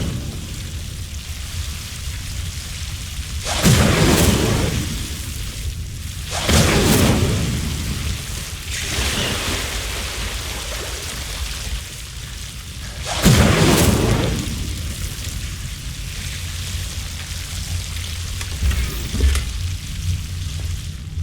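Incendio fire spell cast repeatedly in Hogwarts Legacy, several loud bursts of crackling, whooshing flame spaced a few seconds apart over a low rumbling background.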